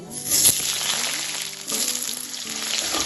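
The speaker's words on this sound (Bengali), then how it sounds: "একটু ভালো ভালো তেলে সাথে ভাজা করে দেবো" Mixed vegetables (drumstick, sweet potato, carrot, papaya, green banana) frying in mustard oil with panch phoron, a loud, close, steady sizzle with occasional stirring scrapes and small clinks.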